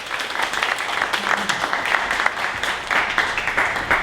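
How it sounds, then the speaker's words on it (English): An audience at a Dallas startup pitch event applauds for several seconds, dense, even clapping from a crowd filling the room, steady throughout with possible voices mixed in. "One more round of applause."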